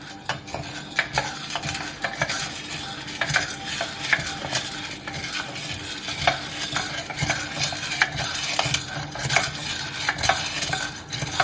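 Full-wash Timor coffee beans are stirred by hand in a pan over a low gas flame, giving a steady scraping, rattling stir with faint sizzling throughout, close and continuous.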